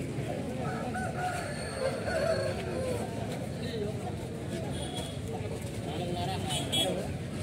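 A country rooster crows at a bustling rural poultry market in Anantapur, its calls rising over a constant hubbub of crowd chatter and nearby voices.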